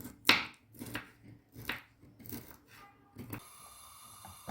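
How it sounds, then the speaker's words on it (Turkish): A knife chops on a board in a few sharp, irregular strikes, fairly close, followed by a faint mechanical whir. "O yüzden doğrayarak yapıyoruz."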